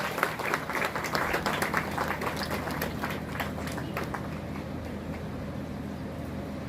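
Steady, dense applause fills a hall at a music college graduation ceremony, many hands clapping continuously at an even level for several seconds without pause.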